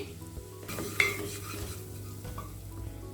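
Ginger garlic paste and spices frying in a pan for egg mughlai, giving a low steady sizzle with a spatula scraping and a sharp clink of metal on the pan about a third of the way through.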